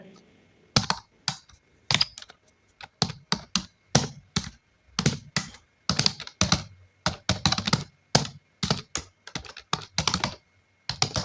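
Typing on a computer keyboard while entering an email address into an online recruitment application form: a steady run of close, crisp key taps in quick irregular bursts with brief pauses, and no talking.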